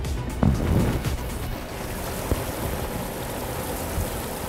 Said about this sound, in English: we're going to drain the water out of the goose pond